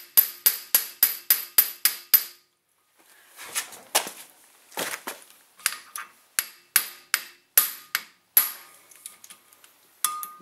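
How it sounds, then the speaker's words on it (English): A hammer striking the back of an impact driver on a front brake rotor of a 2004 Mazda 6, a fast run of sharp metallic blows, a pause with scraping, then more spaced, ringing strikes. "So now we have to use a impact driver. So the way I like to do this is I like to turn and hammer the back."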